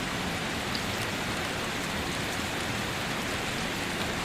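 Steady rain falls evenly and continuously, a dense wash of drops pattering on surfaces with no voices.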